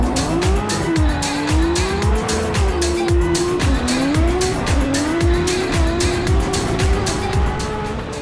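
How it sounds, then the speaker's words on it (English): Cars drifting at a Formula Drift event in Utah, with loud wavering tire squeal over roaring, revving engines and a steady rapid pulsing throughout. "Let's take a look at some drifting."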